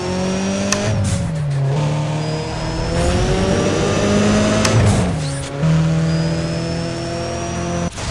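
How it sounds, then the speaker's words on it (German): An Audi S3 race car in Need for Speed ProStreet accelerating hard, the engine note climbing through the gears with brief dips at each shift, loud and steady and with no talk. "Die S3, die können einfach schon richtig Gas geben"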